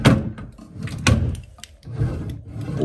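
Wooden drawers in a student bedroom's bedside furniture slide open and shut several times, with close, knocking thuds and scraping rubs at an uneven pace.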